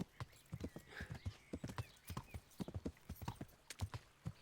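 Horse hooves clip-clop at a steady trotting pace in the medieval game Kingdom Come: Deliverance, close and distinct, with a brief soft whinny-like tone early on and no talking.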